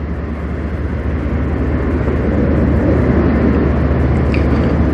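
Canadian National A491 manifest freight train hauled by locomotives 3804 and 2768 on the Strathroy Subdivision, passing close with a loud, steady rumble and roar throughout.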